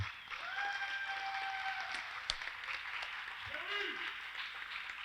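Applause at a settlement day dinner in Reading, a broad steady patter of clapping from a crowd running under the whole stretch, with a voice speaking over it and a brief sharp knock midway.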